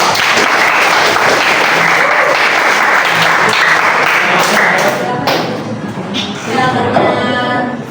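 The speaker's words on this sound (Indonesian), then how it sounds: "kita beri aplaus sebentar" An audience applauds after a group presentation in a room. Dense clapping stays loud and steady, then thins out and fades toward the end as a voice begins to speak.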